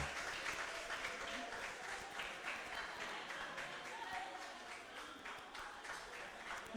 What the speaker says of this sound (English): Please put your hands together for them.